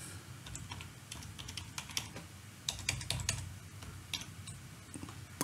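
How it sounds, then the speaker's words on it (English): Administrator password typed on a computer keyboard during a CentOS 7 Linux install, a quick irregular run of soft close key clicks over quiet room noise. "So I'm going to supply the administrator password."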